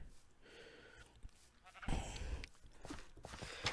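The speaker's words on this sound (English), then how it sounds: "And look, a sheep came to visit me." Sheep bleating in Minecraft, a few moderately loud game-animal bleats in a blocky outdoor world, with background game ambience and no talk.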